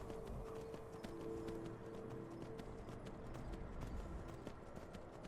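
In Skyrim, a horse's hooves clip-clop in a brisk, regular rhythm, steady and moderately quiet, carrying on without pause under a faint game ambience.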